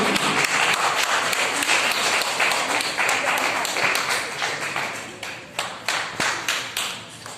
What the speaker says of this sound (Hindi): जोरदार तालियां बजाओ, तालियां बजाओ दूसरी की ओर